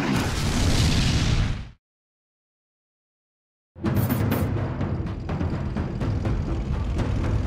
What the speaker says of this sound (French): Ils sont attaqués par 4 nouveaux canons anti-chars allemands, puissants, précis et mortels